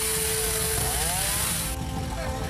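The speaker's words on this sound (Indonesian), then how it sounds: "membutuhkan 3 gergaji mesin untuk memotong batang pohon ini" Three chainsaws cutting a large fallen tree trunk blocking a road in North Jakarta, a loud sustained buzzing whine with shifting pitch over steady engine rumble, the high tone dropping off partway through.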